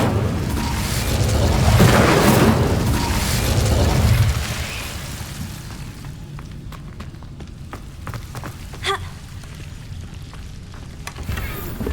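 An Incendio fire spell in Hogwarts Legacy bursts with a loud, roaring whoosh for about four seconds, then dies down into quieter crackles and scattered clicking sounds.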